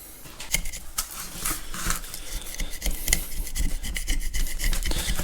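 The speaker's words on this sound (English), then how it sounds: "I just need to scrape enough grease off this back side to be able to see what I'm doing back here." A tool scrapes grease off the back of a Caterpillar D2 diesel engine in quick, repeated rasping strokes, close and steady, with no voices.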